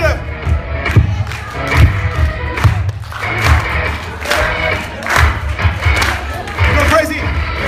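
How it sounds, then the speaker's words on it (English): A school audience at an anti-bullying campaign event at an international school in Dubai claps and cheers loudly, with rhythmic bursts of clapping under a steady roar of crowd voices and shouts. "Put your hands together."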